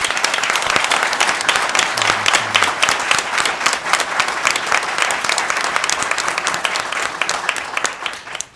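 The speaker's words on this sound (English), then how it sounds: "Let's give them a round of applause once again." Loud, sustained applause from an audience at a fire chief swearing-in ceremony, honoring the fire department, with dense crowd clapping holding steady before tapering off at the end.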